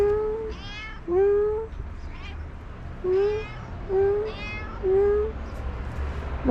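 A cat meows five times in a slow, irregular series at the Mensija cart ruts in San Gwann, each cry clear and fairly close over a low background rumble.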